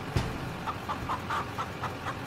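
A hen clucks repeatedly in short, evenly spaced bursts, close by and moderately loud, over a faint background hiss.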